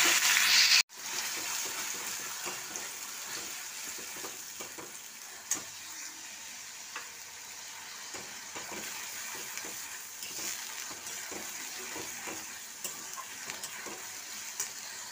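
Cinnamon, green cardamom, cloves and ginger-onion-garlic paste fry in hot white oil, a steady close sizzle with occasional stirring clinks and scrapes, one sharp knock near the start and no voices.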